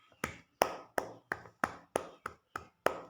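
At a welcome for a motivational speaker, about nine crisp hand claps ring out in an even, slow rhythm. They are quiet and clear, with silence between them and no talk.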